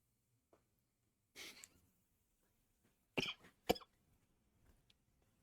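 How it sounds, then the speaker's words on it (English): A sick person coughs three times, with long silent gaps between them: first one loud cough, then two more close together a couple of seconds later, all near and dry against a quiet room, with a faint throat sound near the end. "sorry if there's little coughs and stuff throughout this stream"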